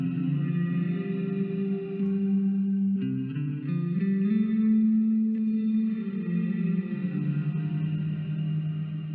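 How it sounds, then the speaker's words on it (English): A sustained electric guitar chord rings out through a reverb pedal set dramatic, heavy washy reverb smearing the notes together, with a few new chords swelling in over the tail. "So you have a more subtle reverb, and then make it dramatic."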